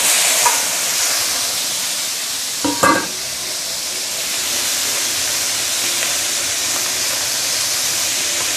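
Pork lard frying in a pot for fish soup gives a steady, close sizzle and hiss, with a brief scrape or clink of stirring near the middle.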